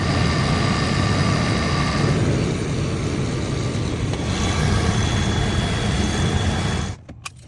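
A 2021 Ford Ranger XLT engine runs steadily at a low idle just after an oil change, a broad constant rumble heard close and alone for about seven seconds before it cuts off abruptly.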